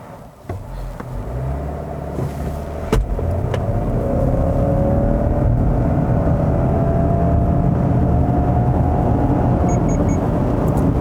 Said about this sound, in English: I want to try brake torquing it a little bit and putting our foot down